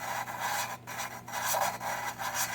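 A hand grinder works metal under firm pressure, giving a continuous scratchy rasp that swells and dips in short strokes, with brief gaps between passes, close and moderately quiet.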